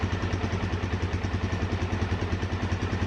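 A Suzuki DR-Z 400S motorcycle engine idles at low RPM, close and steady, with an even, rapid thumping pulse and no voices.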